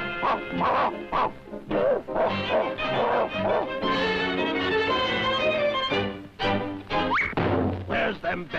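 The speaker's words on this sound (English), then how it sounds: "Woof, woof, woof, woof, woof, woof." A cartoon dog lets out a rapid string of loud, yapping barks over a busy musical score, the bursts coming close and repeated in quick succession.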